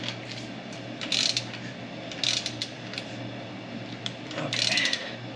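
Ratchet wrench tightening a suspension lock nut, bursts of clicking ratchet strokes at irregular intervals over a low steady hum, fairly close.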